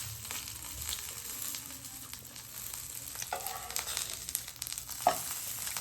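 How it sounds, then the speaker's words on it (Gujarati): Food being roasted on its second side in a pan sizzles steadily, a close, even frying hiss with small crackles and pops and a brief sharper spatter near the end. "બીજી સાઈડ શેકી લઈશું."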